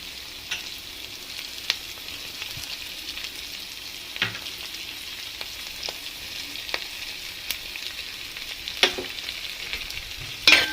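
Chopped three-colour capsicum and vegetables sauté in a pan for red sauce pasta, a steady soft sizzle broken by occasional scraping clicks of stirring, close and moderately loud.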